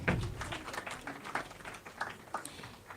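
Scattered applause at the YouLead Summit 2024 comes as fairly faint, irregular clapping from an audience, rising and fading over a few seconds without any speech.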